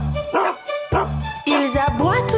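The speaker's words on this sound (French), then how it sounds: "Ils aboient toute la journée dans la drôle de ferme de Papy Henri" Barking from many dogs on Papy Henri's funny farm, short woof-like bursts repeating in quick pairs over a bright children's song backing.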